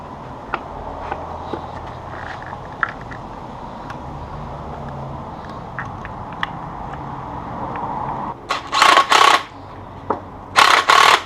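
An impact wrench works the strut shaft nut on a 10th-gen Honda Civic Si during a spring swap, firing two loud, close bursts near the end after a stretch of quiet garage background.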